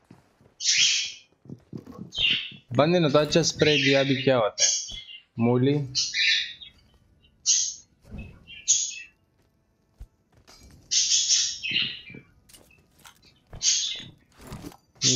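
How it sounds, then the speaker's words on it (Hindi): Parrots squawk and chirp in sharp, high bursts scattered through the stretch, some close and loud, alternating with someone talking excitedly over them. "ये मेरे तोते नहीं है, सालों ने तंग किया हुआ है।"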